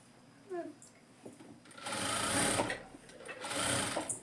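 A sewing machine stitches a straight palazzo pant, its motor whirring up in two close bursts after a few soft handling sounds.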